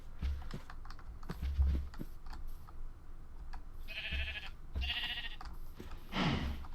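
Sheep bleat a few times in the Minecraft video game, short nasal calls heard over steady clicking of a computer keyboard and mouse.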